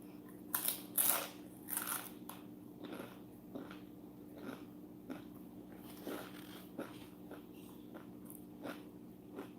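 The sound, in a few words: someone crunching food while eating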